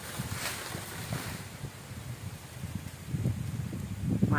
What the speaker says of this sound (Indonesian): Anginnya kenceng, Pak.